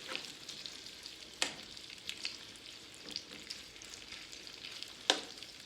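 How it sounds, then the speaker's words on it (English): Smoked sausages frying in a pan give a steady, soft sizzle with a few sharp pops and a faint stir, close and quiet with no talk. "I'll let our sausages kind of fry up in here a little bit."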